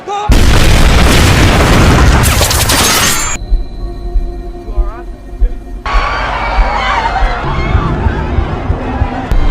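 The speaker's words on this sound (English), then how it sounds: "the bomb exploded and projectile-like nails were shot everywhere" A dramatized bomb blast in a crowded venue fires projectile nails everywhere, heard as a loud booming burst with shattering debris, a sudden muffled lull, then chaotic crowd noise and rumbling.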